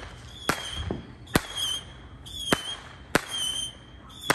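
Fireworks bursting before sunset, five sharp explosive cracks spaced about a second apart, each standing out loudly over a steady background hiss with high whistling tones.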